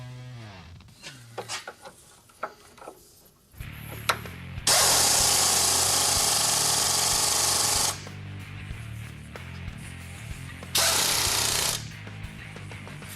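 A power tool tightens nuts during a Honda Accord axle replacement, giving two loud, sustained buzzing runs after some clinking and handling noises.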